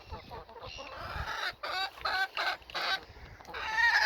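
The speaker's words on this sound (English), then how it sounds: "So they're the two new chickens I mentioned in the last video." Two backyard hens on an allotment cluck in short, uneven bursts close by, with quieter gaps and rustling between the calls.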